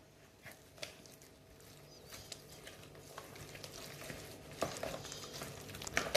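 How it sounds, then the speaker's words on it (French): Eggs are stirred little by little into choux pastry dough for chocolate éclairs, a soft, sticky, wet mixing sound that is faint and close and grows slightly busier toward the end. "Je vais ajouter progressivement mes œufs sur la pâte."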